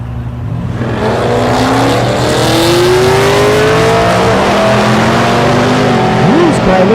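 Drag race cars roar at Thunder Valley in Noble, Oklahoma during Rocky Mountain Race Week, a loud sustained engine drone with rising whine as they pull away, under an announcer's voice.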